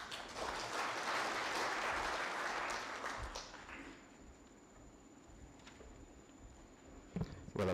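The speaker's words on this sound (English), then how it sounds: "Well, a better round of applause for Mule." Applause from an audience at an official event fills the first few seconds as a dense clatter of hands, then fades to quiet room tone with a few scattered knocks near the end.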